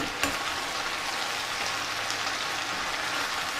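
Smoked sausage sizzles steadily in a frying pan while being stirred, a dense continuous crackle with a brief sharp scrape near the start and no talking.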